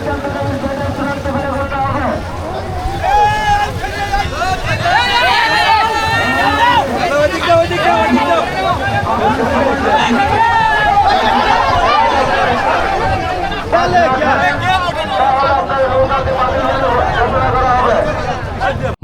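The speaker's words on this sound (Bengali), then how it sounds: "নৌকা বাইচের মঞ্চে চলছে রাজত্ব দখলের লড়াই" At a traditional boat race and fair at Chomor Pathalia, a dense crowd keeps up a loud, continuous babble of chatter and laughter, with boat activity mixed into the steady hubbub.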